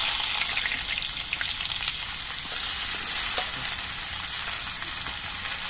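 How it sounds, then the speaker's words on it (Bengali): Vegetables fry in hot oil, giving a dense, even sizzle that holds steady and close for several seconds, with only faint crackles rising out of the hiss. "এবার সবজিগুলো কিছুক্ষণ ভেজে নিতে হবে"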